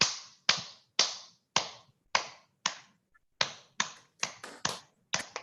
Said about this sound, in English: Let's all clap.